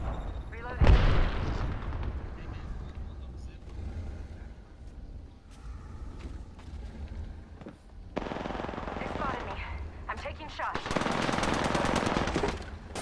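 Gunfire in Apex Legends: a sharp close shot near the start, then bursts of rapid automatic fire and crackling shots in the later stretch, with a voice talking in between.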